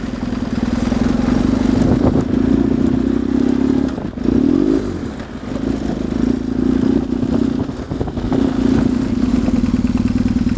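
BMW R 1150 GS boxer-twin motorcycle being ridden, a loud steady engine drone close to the rider, with brief dips in throttle around the middle and continuous road and wind noise throughout.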